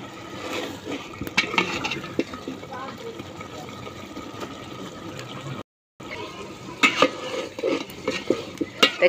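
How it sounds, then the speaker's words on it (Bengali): Meat being stirred and braised with garlic paste in a pan with a spoon, a steady run of scraping and sloshing clinks with a short silent gap midway, while a voice talks over much of it. "যে পানি আছে এই পানি দিয়ে গোস্ত কিছুক্ষণ কষে নেব"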